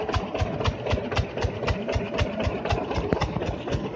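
A borewell pump engine runs on a farm with a steady, rhythmic chugging, evenly spaced knocks about five per second, loud and close with no voices over it.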